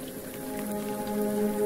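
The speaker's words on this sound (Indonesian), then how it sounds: "mengecek apakah hujan masih besar atau sudah mereda." Heavy rain hisses down steadily at night in an office parking area, a dense even wash of drops. Faint sustained tones sit beneath the rain throughout this short moment, and no one speaks.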